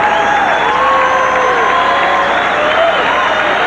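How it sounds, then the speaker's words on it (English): A large crowd at a 1990 Golden Gloves boxing championship applauds and cheers loudly and continuously, with an announcer talking over the noise and a faint bell tone. "You'll hear a great round of applause right now when the bell sounds."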